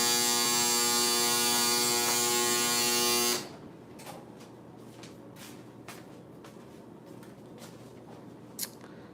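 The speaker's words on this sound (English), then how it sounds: "My damn dryer is so loud." A loud household clothes dryer hums and whirs steadily with a dense mechanical drone for about three seconds, then stops abruptly, leaving a quiet room with faint scattered clicks.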